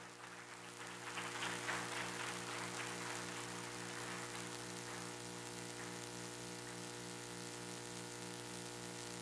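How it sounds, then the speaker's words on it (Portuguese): Faint, steady clapping from a church congregation, a dense patter running the whole time over a low sustained hum, with no voices. "No poder do nome santo de Jesus, quem recebe pode aplaudir e glorificar o Senhor."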